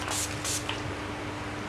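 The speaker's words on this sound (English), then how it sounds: "I'm just going to set my face with some setting spray" Two short, close hissing bursts of makeup setting spray misted onto a face, one right after the other, followed by quiet background.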